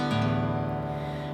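A single guitar upstroke strummed across the strings, a quick bright attack that blends into a ringing chord and slowly decays, close and alone.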